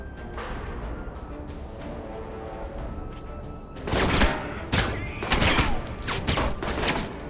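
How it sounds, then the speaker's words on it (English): Enemy gunfire in the video game Alpha Protocol: a steady background of light shots gives way to several loud, rapid bursts of automatic fire crackling close by. "Oh, they're shooting at me."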